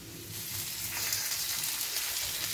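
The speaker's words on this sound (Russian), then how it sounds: "Ну и отправляем форель жариться." Trout fries in butter and oil in a very hot pan, giving a steady, dense sizzle that crackles evenly throughout, close and fairly loud with no talking.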